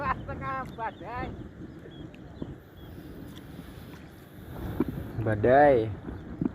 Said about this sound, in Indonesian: anginnya kencang banget bro